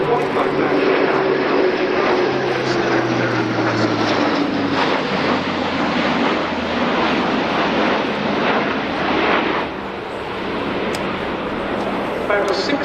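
An Airbus A400M Atlas turboprop of the German Air Force banks in a turn at the RIAT air show, a loud, sustained propeller and engine drone whose pitch slowly slides downward as it passes, then eases slightly near the end.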